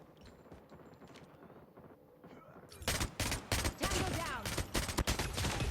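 Rapid bursts of video game gunfire from Call of Duty Mobile erupt and continue in a dense, crackling barrage, following a quieter stretch of muffled background noise.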